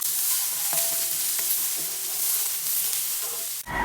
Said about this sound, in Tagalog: naggisa ako ng sibuyas at bawang